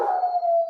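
Milo the dog gives one short, drawn-out, steady vocal note, close and fairly loud, in a quiet room with no talking.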